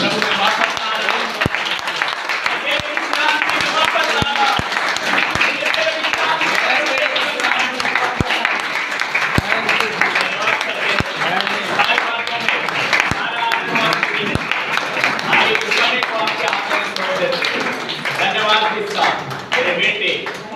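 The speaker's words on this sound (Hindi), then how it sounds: "प्रभु के लिए जोरदार ताली बजा करते हैं।" A church congregation at a Sunday service claps loudly, a dense, sustained wash of applause with sharp percussive hits through it, heard under and alongside someone speaking loudly over it.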